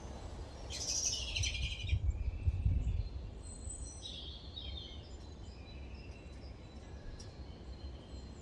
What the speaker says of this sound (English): Stay quiet, watch the birds.